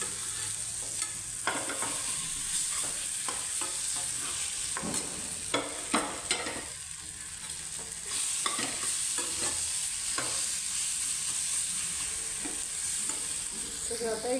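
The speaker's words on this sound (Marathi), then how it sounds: "आता हे टाकून घेऊन वांग आता आपण ते सगळं एकजीव करून घेऊया" Eggplant bharit being stirred and mixed in a pan after adding turmeric and asafoetida, with repeated spoon scrapes and soft sizzling over a steady frying hiss, close and continuous.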